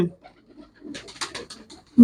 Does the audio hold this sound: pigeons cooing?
yes